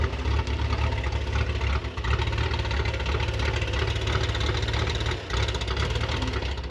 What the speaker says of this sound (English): that's not bad for a 6-cylinder, is it?